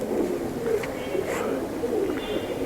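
Soft, throaty cooing of a male pigeon repeats in a low rolling rhythm, close by, with faint chirps in the background.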